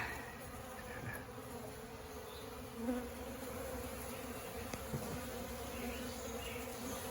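Steady, close buzzing of many honey bees, with a constant droning hum that never breaks. No voices. Bees feeding on honey set out near the hives.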